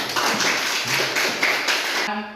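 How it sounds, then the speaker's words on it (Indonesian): A classroom group applauding after student group presentations: several people clapping together in a steady, close patter that stops abruptly at the end. "Beri aplaus untuk kita semua."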